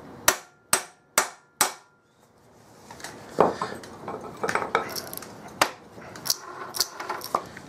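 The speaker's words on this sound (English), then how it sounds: "And then I want to tap it nice and square with my large ball peen." Large ball peen hammer striking a Briggs & Stratton 5hp engine flywheel: four sharp, evenly spaced metallic taps, then a pause and a looser run of lighter knocks and clinks, close and clear.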